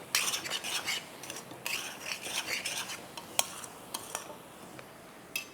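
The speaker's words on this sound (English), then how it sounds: "We're going to mix this." Almonds and pistachios being stirred together in a bowl, giving a close, brisk scraping and clinking with a few sharp ticks as the nuts shift, no voices over it.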